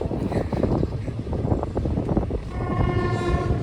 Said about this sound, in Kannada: ಇದು ನಮ್ಮ ಯಾದಗಿರಿ ರೈಲ್ವೆ ಸ್ಟೇಷನ್